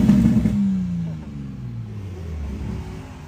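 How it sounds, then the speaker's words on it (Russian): A car with no exhaust revs up nearby, then its pitch slides down as it settles into a lower rumble, with other traffic engines faintly behind. "Когда один газует, все начинают газовать"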